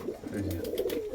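Andhra pigeons give a low throaty coo, a short rolling call heard up close and alone, with a faint low hum running briefly underneath.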